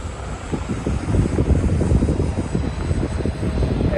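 An E-flite Habu STS RC plane's electric ducted-fan motor roars loud and close as it flies past, a steady whining rush with no voices.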